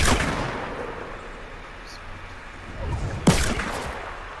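A few loud gunshot cracks in Fortnite, one at the start and a sharp, strong shot near the end, with quieter game noise between.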